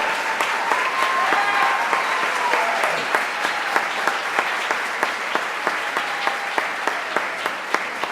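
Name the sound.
applause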